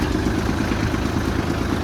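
Kubota GL-19 Japanese mini tractor with a 117 cm track, its small diesel engine running at a steady idle, close and continuous with a low clattering throb throughout.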